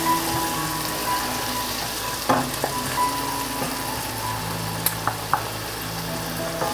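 Garlic frying in a pan as the base of a homemade BBQ sauce, a steady close sizzle with a few scattered clicks and knocks of utensils against the pan.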